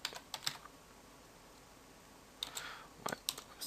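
Quiet computer keyboard typing while text is entered in Photoshop. A few quick clusters of key clicks come near the start, then a pause, then another short flurry of taps near the end, close and faint.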